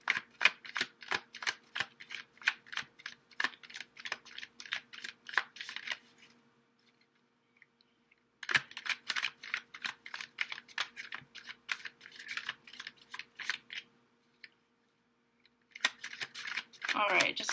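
Tarot cards are shuffled by hand close up in three long bursts of crisp, rapid flicking and slapping, separated by short pauses.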